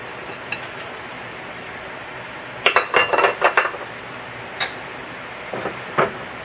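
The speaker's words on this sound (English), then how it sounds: "I'm just going to stir this a tiny bit" Spoon stirring flour, cinnamon, butter, sugar and egg in a mixing bowl, with a cluster of clinks and scrapes against the bowl and a few scattered taps afterward, close up and alone.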